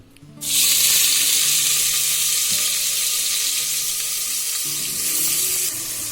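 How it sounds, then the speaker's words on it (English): Onions hit hot oil with a sudden loud burst of sizzling that settles into a steady, close hiss and continues for several seconds without talk. "So first we're going to put the onions."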